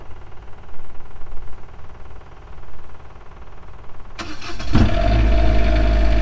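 Cummins Onan RV generator started from its outside start switch: a brief starter crank gives way to the engine catching and settling into a loud, steady running drone close by.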